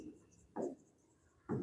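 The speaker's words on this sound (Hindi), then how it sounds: "मैं लिखता हूं" Two short, quiet scratching strokes of writing during an accounts lesson, each a brief burst separated by a pause of about a second, with a soft room hush between them.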